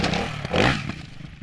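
A Ducati 698 Mono supermoto motorcycle ridden past, a brief loud single-cylinder engine roar that swells and then fades quickly into the distance.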